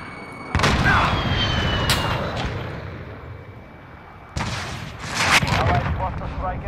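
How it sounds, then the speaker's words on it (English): Rocket launcher explosions from Call of Duty Warzone: two heavy booms with rumbling decay, the second landing a few seconds after the first, both loud and close, with voices talking over the fight. "this rocket launcher"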